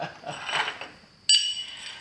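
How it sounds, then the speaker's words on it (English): Shear knives meet with a single sharp metallic clink that rings on briefly, preceded by softer handling noises of the metal parts, close and moderately loud. "knives hit each other"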